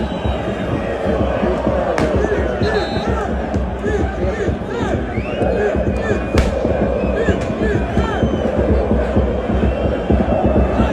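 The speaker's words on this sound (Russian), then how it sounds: "петарды взрываются прямо рядом с футболистом" Dense roar of a large football stadium crowd at the Belgrade derby, with firecrackers cracking and banging through at intervals, and chanting voices throughout.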